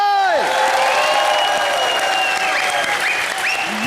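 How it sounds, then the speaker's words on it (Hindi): Studio audience applauding on an Indian TV comedy show set, a loud, dense clapping wash with a few whistles and whoops, sustained and steady throughout. "रवीना मैम और सुखविंदर जी के लिए जोरदार तालियां हो जाए।"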